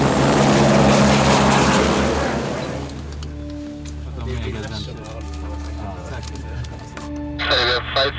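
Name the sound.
helicopter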